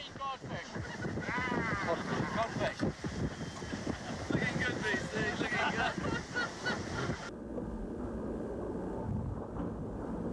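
Wind roars and water crashes steadily as the racing yacht Steinlager pounds to windward through heavy seas in the 1989–90 Whitbread race, with a voice talking over the noise for most of it.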